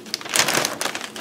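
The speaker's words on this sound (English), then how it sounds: "a giant bag, a really nice plastic bag though, but a giant bag full of just goodies" A giant plastic gift bag full of goodies crinkles and rustles up close, in a quick run of crisp, uneven crackling bursts with no talk.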